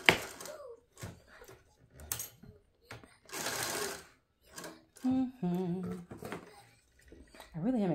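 A sewing machine stitches the edge of a leather bag in short bursts of mechanical whirring, broken up by someone talking in between.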